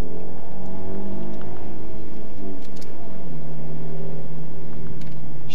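Mercedes GLK 350 4MATIC rental SUV engine under way, a steady moderate hum heard from inside the cabin with a tone change midway through, over a soft wash of road noise and no talk.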